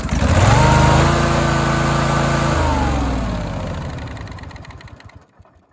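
A cold Kohler V-Twin engine with an upgraded starter cranks quickly and fires, running loud and steady with a low rumbling idle for several seconds before dying away at the end.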